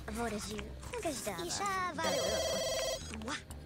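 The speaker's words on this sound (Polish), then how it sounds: "ten telefon dzwoni, dzwoni." A telephone rings in The Sims 2 during a restaurant-business game session, a steady electronic ring sounding under continuous talk from a player.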